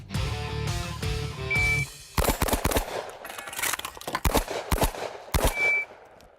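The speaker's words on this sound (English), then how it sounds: "3 steel targets, 1 reload, 3 clay birds in less than 4 seconds." Rapid gunfire rings out at steel targets and clay birds on a shooting course. Close, sharp shots come in a fast string with a brief gap for a reload, and a metallic ring sounds from the hits on the steel targets.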